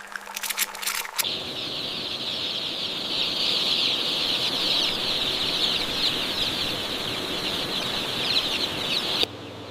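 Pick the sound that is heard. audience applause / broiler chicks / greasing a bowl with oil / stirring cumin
broiler chicks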